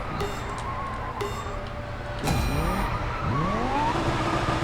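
A car in the Racing Master video game brakes and skids, tires squealing in sweeping downward and upward swoops over a steady engine rumble, loud and close with no talking.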